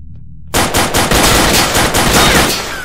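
Loud, close automatic gunfire from the PC shooter S.T.A.L.K.E.R.: Shadow of Chernobyl bursts in suddenly and continues as a rapid, evenly paced stream of shots until the end.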